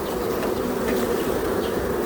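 Honeybees buzz in an open hive while it is inspected during a move from a six-frame to a twelve-frame hive, a dense, continuous close-up drone with no talking.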